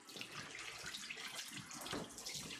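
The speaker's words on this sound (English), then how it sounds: "Less sprayage going on when you do that. Just straight water to the area." Straight water stream from a sprayer rinses a Coton de Tulear during grooming, a steady close hiss of running water with slight splashing variations throughout, no voices.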